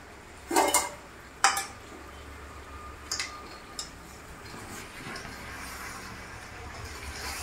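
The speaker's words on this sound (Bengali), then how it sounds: "এভাবে ভালো করে নেড়ে দিতে হবে, না হলে নিচে লেগে যাবে" A spoon clanks and scrapes against a pan while chicken curry with poppy seeds is stirred: a few sharp metallic knocks early on, then a steady soft sizzle and low kitchen hum.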